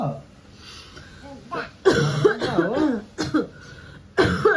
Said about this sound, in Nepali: मलाई चाहिँ खोकी जाति भएको छैन दादा अहिलेसम्म पनि